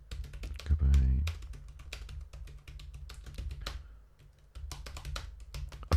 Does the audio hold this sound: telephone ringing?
no